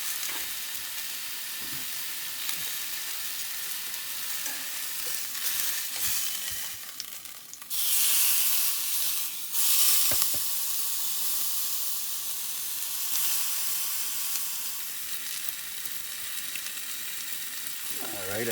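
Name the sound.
food searing in a hot pan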